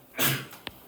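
A single short sneeze bursts out in a chemistry classroom during a lecture, a sharp breathy blast followed by a couple of faint clicks.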